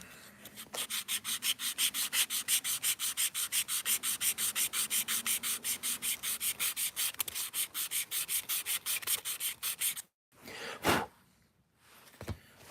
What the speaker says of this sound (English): Stick with the sanding.